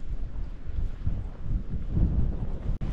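Heavy rain pelting on a roof over a backyard golf course shed, a dense low roar with rumbling gusts throughout and a brief dropout near the end.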